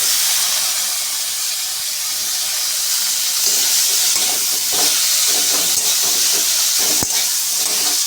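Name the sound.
tomato and capsicum sizzling in a hot pan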